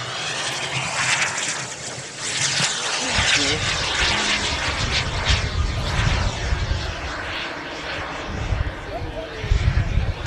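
Radio-controlled A-4 model jet makes a fast pass at an R/C airshow, a continuous loud engine roar rising and falling over about ten seconds, with crowd and outdoor noise around it.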